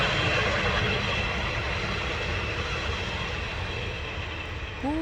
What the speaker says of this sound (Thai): รถไฟมาละจ้า เสียงดังไม่ได้จะเด้อ